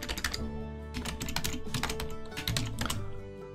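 Fingers type rapidly on a computer keyboard in an animation software tutorial, producing dense, close clicking keystrokes over a steady background of music or hum, with no speech.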